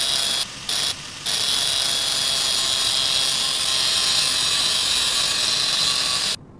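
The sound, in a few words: grinder in Offroad Mechanic Simulator video game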